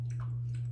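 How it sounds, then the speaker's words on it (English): Candy being chewed during an eating contest, with Kit Kat bars and watermelon candy sticks involved: short, soft, squishy mouth sounds close to the mic over a steady low hum, with no talking. "After I'm done chewing."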